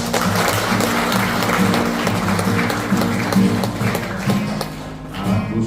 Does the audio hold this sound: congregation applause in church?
yes